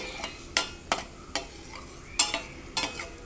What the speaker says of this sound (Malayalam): ആദ്യം രണ്ടും സെപ്പറേറ്റ് ആയിട്ടാണ് വറക്കുന്നത്